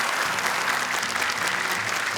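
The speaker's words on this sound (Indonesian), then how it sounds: "Boleh tepuk tangan untuk kelompok As-Siddiq." A studio audience at the Hafiz Indonesia 2019 Quran recitation competition on television claps loudly for a group of contestants, a thick, continuous burst of applause heard up close, with a faint low hum underneath.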